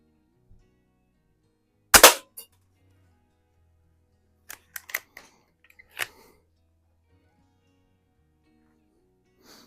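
A Markham King model 1892 BB gun fires at a can: one loud sharp crack, then a few quicker snaps and small clinks spaced over several seconds amid near silence.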